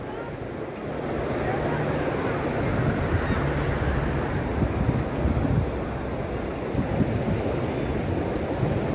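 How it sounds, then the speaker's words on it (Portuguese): Rough surf rolls onto the beach at Praia Gravatá in Navegantes, Santa Catarina, giving a broad, steady roar mixed with wind buffeting on the microphone, continuous and fairly loud throughout. "O mar tá agitadinho."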